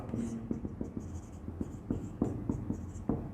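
A pen scratches out a math solution on a surface in short, irregular strokes and taps, close and fairly quiet, with brief pauses between marks.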